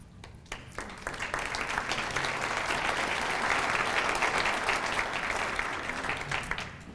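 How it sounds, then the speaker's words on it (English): An audience at a Carroll County Food Sunday 40th anniversary event applauds volunteers, dense sustained clapping that swells and holds for several seconds before easing slightly, with no voices over it. "I'd like them to stand for a round of applause"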